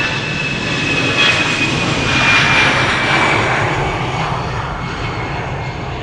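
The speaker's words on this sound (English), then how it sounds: "EasyJet A319 to Bristol is taking off right now." An EasyJet Airbus A319 takes off for Bristol from Amsterdam Schiphol, a loud, close, continuous jet engine roar that swells to a peak and then slowly fades.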